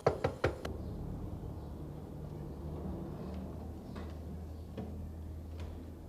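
Three or four sharp knocks on a door sound close and loud at the very start, followed by a quiet room with faint low hum and a few soft thuds.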